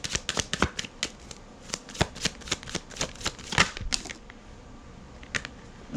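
Tarot cards are shuffled by hand in a quick run of crisp riffling snaps and taps, close and clear, slowing to a few scattered clicks before stopping.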